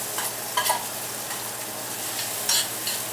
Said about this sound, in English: And then I'm going to cook the breadcrumbs